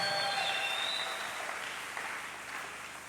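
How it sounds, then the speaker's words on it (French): Congregation clapping hands during a Sunday church service: a broad, sustained patter of many hands that slowly fades, with faint voices and tones ringing over it. "Piga mikono na mfalme wa falme."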